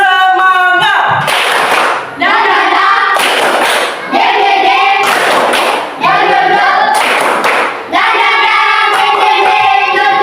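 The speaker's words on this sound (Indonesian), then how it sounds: "Ya, tepuk tangan dulu" Schoolchildren clap together in a classroom in rhythmic bursts of loud, crisp claps. Short pauses separate the bursts, and chanting voices run along with the clapping.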